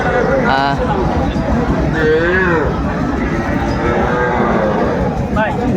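Cows and calves moo repeatedly at a busy cattle market in Munshiganj, loud and close, with a steady crowd murmur and people talking throughout.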